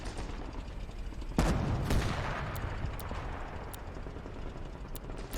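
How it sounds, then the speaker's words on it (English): Anti-tank rifles fire at Panzer II tanks in Gates of Hell, a war game: a few sharp, heavy cracks over a rumbling battlefield din, with distant gunfire scattered throughout. "AT rifles firing at the Panzer."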